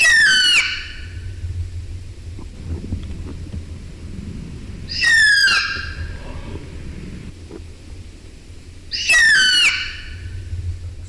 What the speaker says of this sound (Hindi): जैसे कि इस स्पॉट ब्लीड ईगल आउल की चित्कार